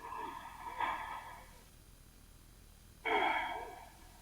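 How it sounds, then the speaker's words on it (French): Deep breaths taken during a stability-focused yoga session: two slow, close, breathy inhale-exhale cycles separated by a quiet pause, with no talking. "pour une profonde respiration."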